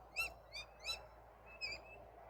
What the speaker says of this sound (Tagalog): Iba't ibang klase yung ibon nandito guys sa bukid.